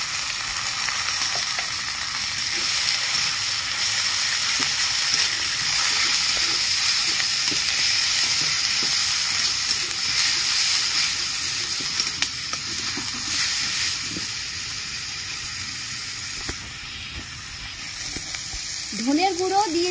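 Ginger garlic paste and grated onion sizzling in a frying pan for jackfruit biryani, a steady loud hiss of frying that runs throughout, with occasional stirring scrapes and a faint voice near the end.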